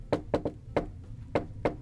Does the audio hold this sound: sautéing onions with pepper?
no